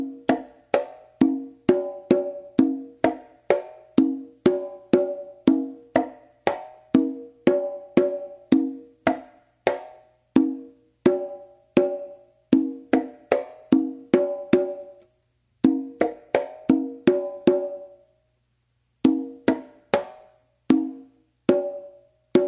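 Conga drums play a steady, driving bembe pattern of open and slapped tones, with a few brief pauses near the end.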